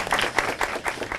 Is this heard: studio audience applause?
yes